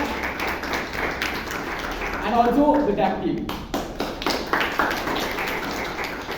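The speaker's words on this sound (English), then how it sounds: "A huge round of applause for Anna Victoria" Audience applause at a Toastmasters meeting in Bangalore, a steady crowd patter of clapping lasting throughout, mixed with a speaking voice and a brief swell midway.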